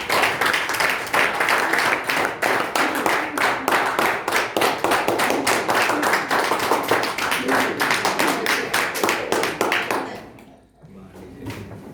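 Classroom applause for a student during a group discussion, a dense steady clapping of many hands that runs loud for about ten seconds before stopping abruptly.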